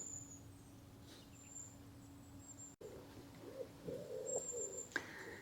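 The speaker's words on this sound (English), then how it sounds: "Listen to all the birds," Birds calling near the water at Barton Broad on the Norfolk Broads, a few faint high chirps and calls scattered over quiet outdoor ambience, with some nearby handling noise later.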